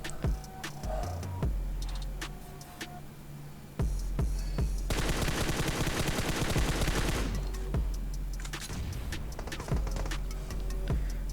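Automatic gunfire from an M4 rifle in the battle-royale game PUBG Mobile, a dense sustained burst of rapid shots in the middle with scattered single cracks and other game sounds before and after.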